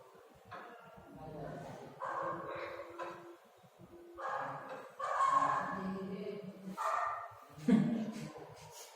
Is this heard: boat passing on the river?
no